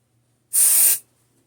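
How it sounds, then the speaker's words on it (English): Cleaning spray shoots from an aerosol can onto a Mosin Nagant rifle as it is cleaned. One forceful, close hiss lasts about half a second and then cuts off into quiet. "Some spray here, shake the crap out of it."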